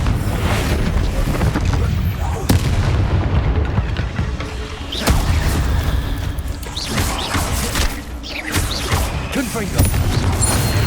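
In Hogwarts Legacy, Confringo spells detonate in a string of heavy booms and crashing blasts, several loud impacts rolling over a dense, rumbling battle din.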